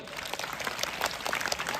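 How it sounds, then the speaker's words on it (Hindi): Applause from a school quiz-show audience at a children's championship program, steady broadband clapping over about two seconds, moderately loud and fairly distant, with no voices on top. "एक जोरदार ताली।"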